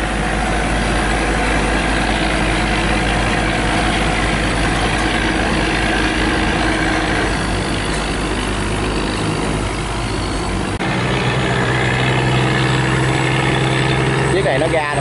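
A stranded barge grounded at the bow on a Mekong Delta canal, its diesel engine running loud and steady with a deep low rumble throughout, a shift in tone near the end as it powers the rudder outward.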